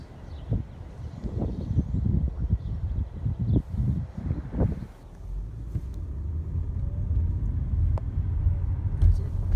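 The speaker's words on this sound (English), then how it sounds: "There's a Tesla electric car just passing us there." A Tesla electric car passes by in a residential neighborhood of large homes, a low steady rumble with wind noise that swells toward the end, with people talking over the first half.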